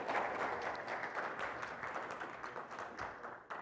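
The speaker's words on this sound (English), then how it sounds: "Can we give John and Ben a round of applause for running this whole thing" An audience at a hacker conference talk on RF and software-defined radio applauds, a dense sustained wash of many hands clapping close and loud that tapers slightly toward the end.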